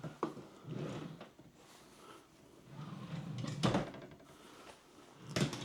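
Drawers of a white wooden farmhouse-style ten-drawer dresser, 55 inches wide, slide and knock as they are pulled open and pushed shut, with a few sharp bumps between softer sliding rumbles.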